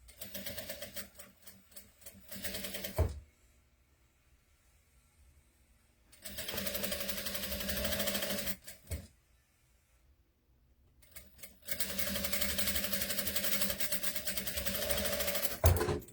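A sewing machine stitches doll clothes in three rapid, steady mechanical runs separated by quiet pauses. Brief clicks and handling noises come between the bursts, and the machine sounds close and fairly loud.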